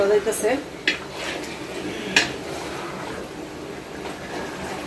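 A spoon scrapes and knocks against a large cooking pot as Eid sacrificial meat with spices is stirred, giving intermittent metallic clinks at moderate volume over faint kitchen background.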